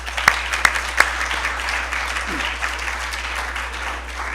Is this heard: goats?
no